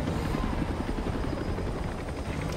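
A helicopter in the video game Batman: Arkham Origins drones steadily with a dense, even rotor roar, continuous and moderately loud throughout, with no talk over it.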